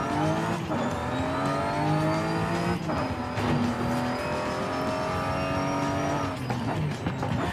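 A BMW i8 engine at full throttle in the racing game Forza Horizon 5, revving high and loud throughout, with a few quick gear changes along the way.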